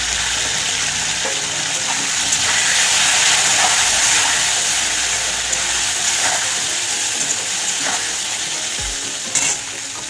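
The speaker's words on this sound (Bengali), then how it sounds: "এবার ফুলকপি কটা আমি ভেজে নেব।" Cauliflower pieces fry in hot oil in a heated pan, a steady close sizzle with scattered crackles and occasional stirring clinks, no talking.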